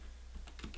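Faint key taps on a computer keyboard, a handful of quick clicks over a low steady hum.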